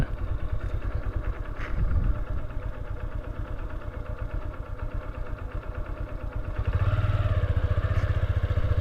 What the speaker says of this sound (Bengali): আপনাদেরকে ছোট্ট একটা ট্রেন দেখাইতে পারলাম